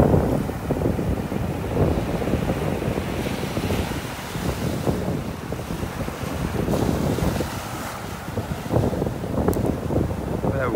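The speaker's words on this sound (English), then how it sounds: "That wind is kicking up now. Breeze is definitely starting to kick up." Strong wind gusts over a beach in North Naples, Florida, roaring and buffeting the microphone continuously, with a low surf wash blended underneath.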